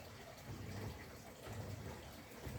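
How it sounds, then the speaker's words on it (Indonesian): Water is poured over transplanted cucumber seedlings in a garden bed, giving a faint, steady splashing gush that swells and eases in a few uneven pulses. "Habis ini kita siram."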